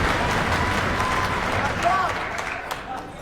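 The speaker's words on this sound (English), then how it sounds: "The European crowd is stirring now." A European crowd applauds and stirs at a Mosconi Cup pool match, a moderate wash of clapping and murmuring under a commentator's voice.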